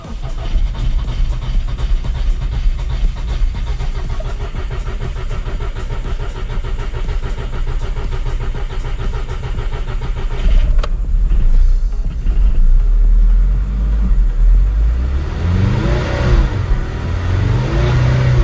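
A Volkswagen car engine cranks and catches, settling into a rough steady idle before revving up loudly toward the end, close by with no talk.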